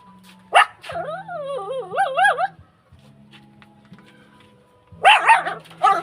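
A dog barks sharply, then lets out a long wavering whine. A few seconds of quiet follow before another burst of yelping.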